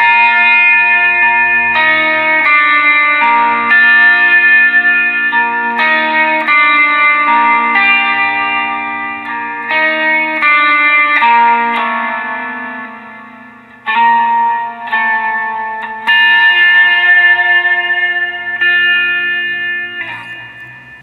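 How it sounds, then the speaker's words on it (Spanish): Soft worship-style electric guitar chords ring out, drenched in heavy reverb and delay, notes sustaining and blurring into a shimmering wash; loud and continuous with a brief dip partway through, no talking. "estos sonidos suaves, cargados de mucha reverb y delay"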